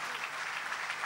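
Audience applause for festival workers at a Berghemfest political rally, a dense steady clapping from a large crowd filling the whole moment, with no clear speech over it.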